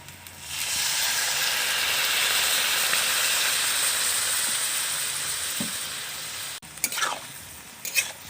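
Water poured into a hot pan of fried spices for potol chingri sets off a loud, steady sizzle and hiss that fades slowly, followed by a few faint clinks and stirring sounds.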